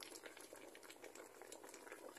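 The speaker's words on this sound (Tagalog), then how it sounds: "Kumukulo na siya." A pot of suman bubbling at a boil, a steady, faint, close-up seething of small bubbles with no voices.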